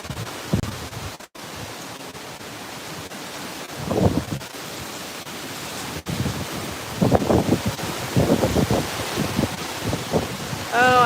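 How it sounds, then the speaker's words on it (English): Tropical Storm Debby's wind buffets the microphone in rumbling surges, with a strong gust building near the middle and a louder stretch of gusting toward the end. "Another gust."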